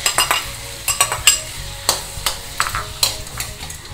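Boiled vegetables are stirred into ghee in a kadai: a spoon scrapes and knocks against the pan in quick irregular strokes over a soft sizzle, close and clear with no talk.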